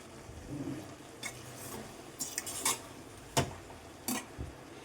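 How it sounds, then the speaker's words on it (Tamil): A spoon stirs chili powder into softened vegetables in a cooking pan, giving a few quiet scrapes and light metallic clicks spaced irregularly over a low kitchen background. "அதை நல்லா கொஞ்சம் கிளறி விடணும்."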